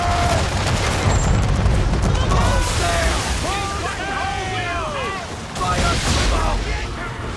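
Naval cannon fire from a sailing warship in Assassin's Creed III, heavy booming volleys and crackling blasts rolling over sea and wind noise, with shouted commands and voices over the battle.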